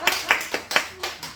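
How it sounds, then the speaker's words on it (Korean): A church congregation claps during a Sunday worship service, with a few distinct, sparse claps spaced across a short moment, moderately close and fairly quiet. "우리 한번 박수 한번 치겠습니다."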